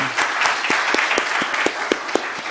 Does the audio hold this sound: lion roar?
no